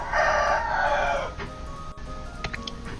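A rooster crows loudly in one long, strained call, then fades into a quieter background of faint clucks and room noise.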